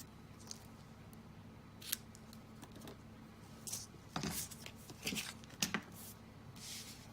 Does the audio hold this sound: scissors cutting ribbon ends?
yes